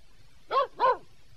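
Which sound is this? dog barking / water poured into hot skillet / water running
dog barking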